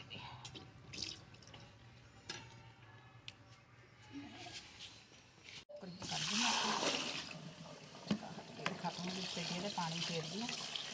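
Taro root is washed by hand in salted water, with soft drips, trickles and sloshing that swell into a louder stretch of running, splashing water in the second half, close by and without talk.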